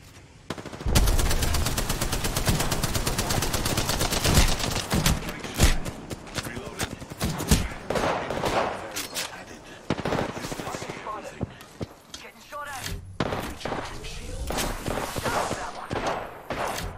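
Rapid automatic gunfire from a video game shooter, dense bursts that run almost continuously with brief lulls, loud and close, and a voice talks over the shooting.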